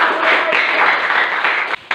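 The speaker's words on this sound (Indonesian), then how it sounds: "Tepuk tangan untuk kelompok." A classroom audience applauds a presenting group, a dense steady wash of clapping hands that fills nearly two seconds before cutting off abruptly near the end.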